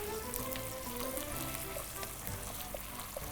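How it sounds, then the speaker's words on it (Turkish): Tomato paste sautéing in a pan on a Turkish cooking show, a steady close sizzle and crackle of frying running alone throughout without a break. "ve güzelce kavuruyoruz. Ekşisi çıkana kadar."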